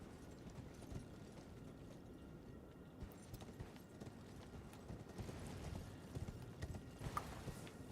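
Horse hooves clip-clop steadily while riding in the video game Elden Ring, a continuous rhythmic patter at moderate level with no talk over it.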